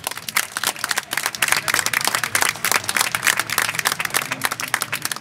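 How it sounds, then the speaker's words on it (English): An audience at a hacking competition event claps together, a dense, steady patter of applause at moderate distance lasting the whole stretch, with no talk. "So give them a round of applause as well."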